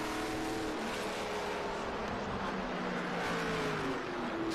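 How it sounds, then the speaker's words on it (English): A Dodge Charger race car roars steadily along a track during a vintage racing event at VIR, its engine note loud and continuous with rising and falling pitch as it runs, with no voices over it. "That's Jack Finch up front in that Dodge Charger."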